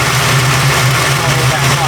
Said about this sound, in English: But it's always gonna have a high idle in my opinion